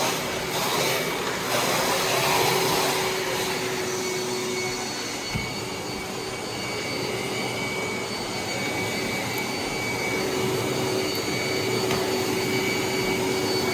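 Brand-new vacuum cleaner running at full, very powerful suction, a continuous loud roaring whine with a steady tone, nearby and alone without speech.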